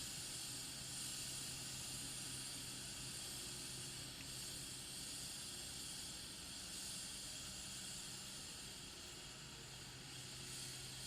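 Chain cleaner sprays continuously onto the drive chain of a 2011 Kawasaki Ninja 250, a steady close-up broadband hiss that holds without pause for the full stretch.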